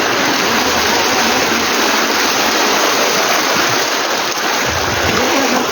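Floodwater rushes through a village market street in Damrala after heavy rain, a loud, steady broadband roar of flowing water filling the whole stretch without pause.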